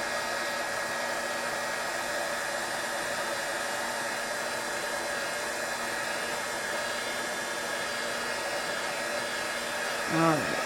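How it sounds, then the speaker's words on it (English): Heat tool blowing steadily as it melts embossing powder on a handmade winter card, a continuous close, even airy roar holding for the full length with a slight surge near the end. "now I want to take my heat tool and heat the embossing powder"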